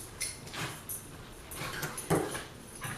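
Two young puppies barking and yapping at each other indoors, several short irregular barks scattered across the moment, moderately near with household background noise.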